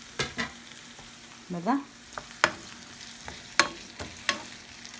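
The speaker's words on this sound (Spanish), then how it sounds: "Le vamos a agregar el tomate y el chile." Green beans frying in a pan as tomato and chile are added, with a soft sizzle under sharp clatters of a stirring utensil and one brief spoken word.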